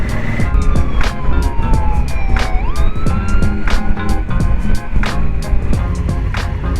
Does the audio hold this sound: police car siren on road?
yes